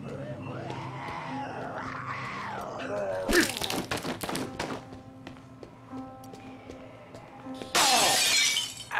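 Glass shattering in the video game Contagion, several loud crashes and tinkling shards over game noise, with a player's voice heard earlier and another burst of breaking at the end.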